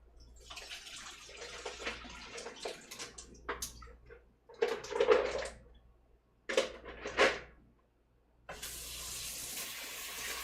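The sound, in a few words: rinsing mussels in water at a sink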